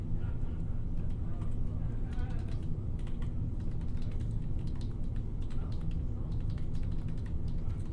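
Steady clicking of computer keyboard keys during data entry, a soft continuous patter of keystrokes close by over a low background hum, with a person talking throughout.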